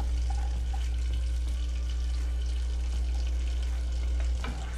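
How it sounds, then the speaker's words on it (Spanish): A quarter of an onion sautéing in melted butter in a pan: a steady, close sizzle under a constant low hum, with a light clatter near the end and no voices. "aquí vamos a sofreír un cuarto de cebolla"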